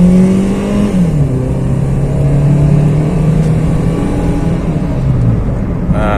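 A Honda car is driven at full throttle on a test drive, its engine revving loudly and steadily, the pitch dropping briefly around a gear change, with the sustained drone filling the cabin throughout.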